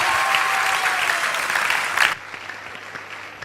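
Audience applause at a Christian comedy night, a dense burst of clapping for about two seconds that cuts off abruptly into a quieter room tone with scattered faint claps.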